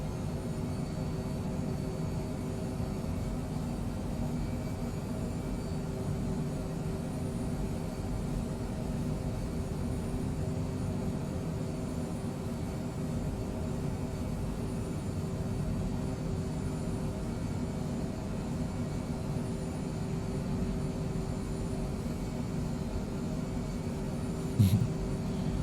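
The twin jet engines of a Cessna Citation Mustang in Microsoft Flight Simulator 2020 hold a steady, even cockpit whine and rumble as the throttle is eased up slightly, with a brief click near the end.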